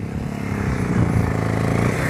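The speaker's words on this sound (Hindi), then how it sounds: "मुझे आवाज़ आ रही है पीछे से बाइक की" A motorcycle engine rumbles steadily at low pitch, growing slightly louder over two seconds as it draws nearer, in Bothoo, Bandipora, Kashmir.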